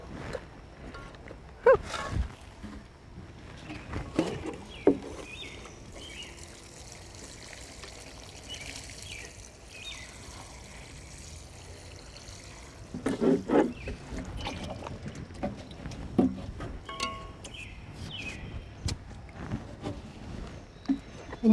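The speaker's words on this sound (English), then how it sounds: "Now I'm just going to go ahead and water it in real quick." Water poured around the base of a newly planted shade garden plant, with soft intermittent splashes and trickles at close range, a few sharper bursts standing out over a quiet background.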